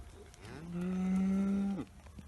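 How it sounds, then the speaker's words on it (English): A Brockle Hill Harvest Gold dairy cow in her fourth lactation, about eight weeks calved, gives a single long, loud moo that rises, holds, then cuts off, over faint background noise. "we got a Brockle Hill Harvest Gold 4th lactation cow there, just going through"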